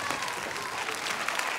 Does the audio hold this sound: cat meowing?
no